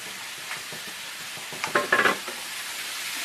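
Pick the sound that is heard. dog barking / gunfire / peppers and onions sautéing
peppers and onions sautéing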